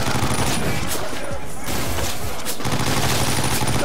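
Rapid, loud gunfire in the video game 50 Cent: Blood On The Sand, a continuous automatic burst with brief gaps, dense and close throughout.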